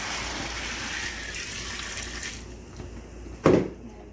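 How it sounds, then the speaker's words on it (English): Liquid poured onto wood pellets in a steady stream that rushes for a couple of seconds, then stops, followed by a single soft knock. "I'm going to pour this into the pellets."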